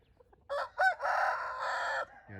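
A Thai rooster crossbred with Burmese and Brazilian bloodlines crows nearby, with a sharp opening call that breaks into one long, loud, drawn-out crow, preceded by faint clucking.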